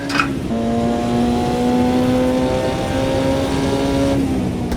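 Race car engine in a sim racing video game, a loud sustained drone holding a steady pitch near the listener, then dropping slightly as the throttle eases.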